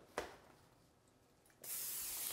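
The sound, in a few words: spraying sheet pan with cooking spray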